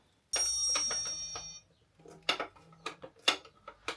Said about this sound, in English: I'd love to answer the phone right now